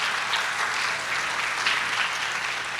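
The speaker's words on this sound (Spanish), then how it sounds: "Un aplauso para Magali" A church congregation at a Sunday service claps in steady, dense applause that holds evenly at full strength throughout.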